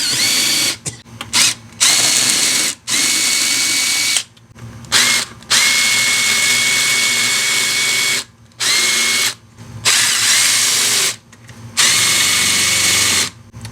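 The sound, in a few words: unthreading F150 5.4 valve cover bolts with a power tool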